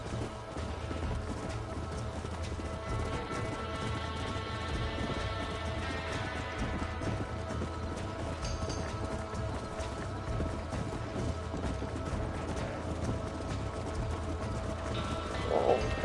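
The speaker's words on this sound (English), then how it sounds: "Where does this horse ever get tired? I mean, why would he stop running?" A horse gallops steadily in Red Dead Redemption, rhythmic hoofbeats pounding continuously over a low rumbling bed of game sound, moderately loud and unbroken for the whole stretch, with no talking.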